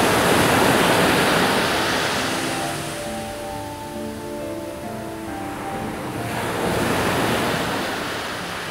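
Waves of the Sea of Okhotsk wash ashore in loud, rolling surges mixed with wind, swelling, easing, then rising again; no speech.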